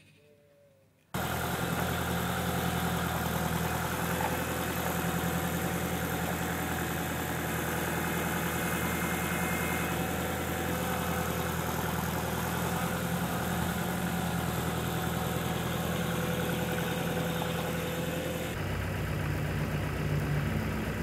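A forklift engine idles on a farm, its steady, loud rumble close by and unbroken, starting abruptly after a second of near silence and running to the end.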